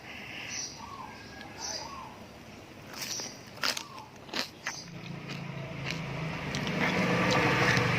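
Homemade sour-salty pickled mustard greens crunch between the teeth, a few crisp close bites clustered mid-clip, followed by a low, steady background rumble.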